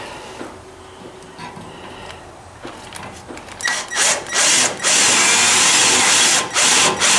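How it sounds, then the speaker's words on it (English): A power drill drives a self-tapping screw into the sheet-metal fan shroud of a Ford 800 tractor, starting with faint handling noises, then loud close whirring bursts that build into a sustained grinding spin. "I have a little driller on there, the self-tapping."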